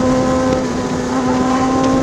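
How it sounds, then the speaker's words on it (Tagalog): A car motor holds a constant nearby drone with a firm tonal hum throughout, loud and unbroken, with no one speaking. "Kotse."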